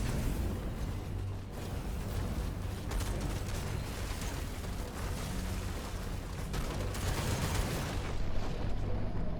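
Dense, continuous battle noise from the mech tactics game Phantom Brigade: sustained machine gun fire layered with rumbling explosions and mechanical creaks, loud and unbroken for the whole stretch.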